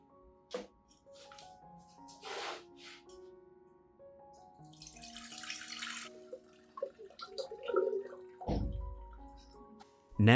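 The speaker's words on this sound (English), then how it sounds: "I gently strain out the onion residue, keeping only the nutrient-rich liquid" Onion-steeped liquid is strained and water drips and trickles in a quiet kitchen setting, with scattered small drips, a brief rush of pouring, and a soft splash near the end, without talking.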